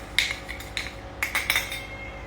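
Sponge cake batter mixed in a bowl, a handful of bright metallic clinks and scrapes of a utensil against the bowl in two short clusters, close and fairly soft, with no voices.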